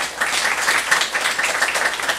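A church congregation at a Saturday worship service claps together in a steady, dense burst of applause that stays fairly loud and even throughout.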